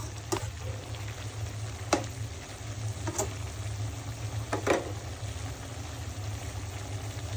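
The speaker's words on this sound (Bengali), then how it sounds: "শাকটা সুন্দর মতো কষিয়ে নিলাম।" Bottle gourd greens sautéing in a pan for a home-cooked shrimp curry: a steady, moderate sizzle over a low hum, with a few sharp clicks from stirring scattered throughout and no talking.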